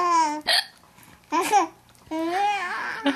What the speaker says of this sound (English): Yeah, I have the hiccups.